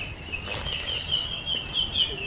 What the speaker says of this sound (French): Je sais pas si vous entendez, il y a des cris d'oiseaux.